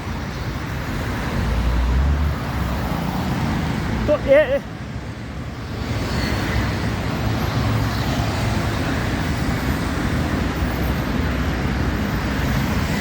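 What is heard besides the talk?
CNG bus and road traffic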